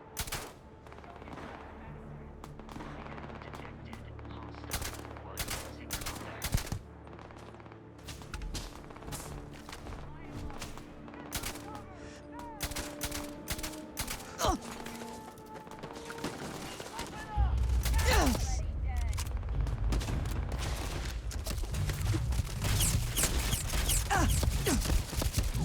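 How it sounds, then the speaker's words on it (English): Rapid bursts of gunfire in the video game Starfield, sharp repeated shots and automatic volleys over a steady rumble, with a voice talking now and then. "I'm hearing gunfire"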